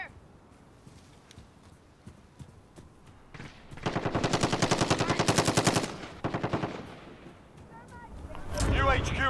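Rapid automatic gunfire rattles in a Call of Duty: Modern Warfare match, with scattered shots first and then a long, loud sustained burst, a shorter burst after it and another loud blast at the end.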